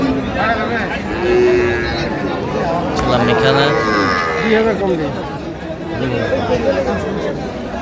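Cows and calves at a busy rural cattle market low with drawn-out moos, loud and near, over steady crowd chatter, and people talk close by throughout.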